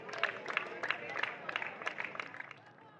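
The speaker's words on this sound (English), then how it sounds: "please give a huge round of applause for Lorenzo" Crowd applause at an outdoor kart racing podium ceremony, a dense steady patter of clapping running throughout at moderate distance, with a voice speaking over it.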